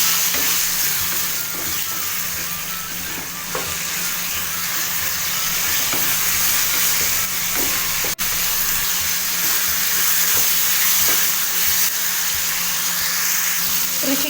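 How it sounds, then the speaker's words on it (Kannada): Tomatoes fry in oil for chutney, giving a steady, moderately loud sizzle with occasional stirring clinks throughout. "ಟೊಮೊಟೊ ಎಲ್ಲ ಎಣ್ಣೆಲಿ ಚೆನ್ನಾಗಿ ಫ್ರೈ ಆಗ್ತಾ ಇದೆ."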